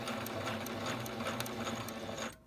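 A sewing machine stitches along a sleeve seam, running in a close, steady rapid chatter of needle strokes before stopping abruptly at the end.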